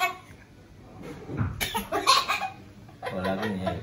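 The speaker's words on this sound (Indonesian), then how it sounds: "Batuk." A few rough coughing bursts in a row, fairly close, over a noisy background with faint clucking-like sounds.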